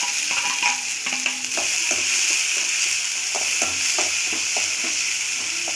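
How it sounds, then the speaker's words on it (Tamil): Finely chopped onion sautés in a pan for coconut dosa batter, a steady sizzle with scattered scraping stirs throughout, close and moderately loud. "ஆனியன் நல்லா வதங்கிருச்சு."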